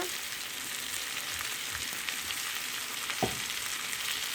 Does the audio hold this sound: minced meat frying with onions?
yes